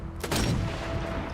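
A single heavy sniper rifle shot in the video game Sniper Elite 4, a loud booming blast with a long rumbling tail that fills the short moment, with no talking.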